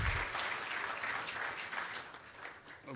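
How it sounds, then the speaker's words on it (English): Applause from an audience welcoming the President of Ghana at the Chief Justice's swearing-in ceremony, a dense, steady wash of many hands clapping that carries on throughout. "Shall we please welcome him with a big round of applause?"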